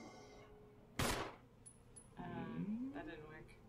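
A gunshot fired at a zombie in the Resident Evil video game cracks out once, sharp and loud, followed by quieter game sounds and voices talking.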